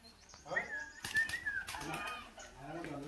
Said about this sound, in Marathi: बघा किती कबूतर आहेत,